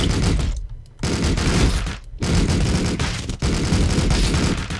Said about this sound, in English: So just kill this guy with the gun first.